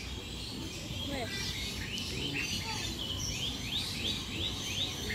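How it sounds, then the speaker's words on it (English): A red-whiskered bulbul calls inside an aviary, a series of short, faint rising chirps repeated several times over a soft background hum, with some quiet voices nearby. "We also have a red whiskered bulbul over there. It's a small bird with a black crest."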